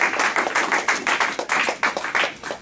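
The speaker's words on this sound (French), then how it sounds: "Acclamons très fort pour la gloire du Seigneur." A church congregation claps together in a fast, steady rhythm, with dense, close, continuous hand claps and no pauses.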